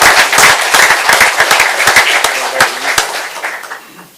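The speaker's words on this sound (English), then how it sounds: "One more round of applause" Audience applause fills a city commission meeting after a Dixie Angels 10U girls all-star softball team is recognized, dense clapping close and loud at first, then thinning out toward the end.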